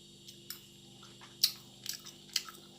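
Someone chews a mouthful of minced shrimp larb with spring onion: quiet, close, moist chewing with a few sharper crunchy bites at uneven intervals.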